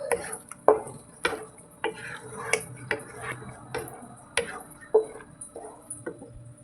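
Paneer curry stirred with garam masala in a pan, giving repeated light scraping and tapping strokes in an uneven rhythm, close and fairly quiet, with no voices.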